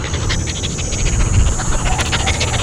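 A dog panting steadily in quick, rhythmic breaths, close by, over a rough outdoor background hiss.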